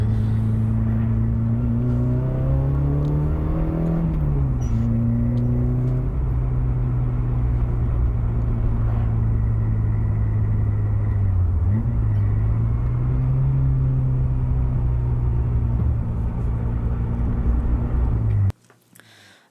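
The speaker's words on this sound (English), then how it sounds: "this is my 1981 Toyota Corolla wagon" A 1981 Toyota Corolla wagon engine runs steadily with a low, even hum and a couple of slight dips in pitch, loud and close, continuing for about eighteen seconds before abruptly cutting off.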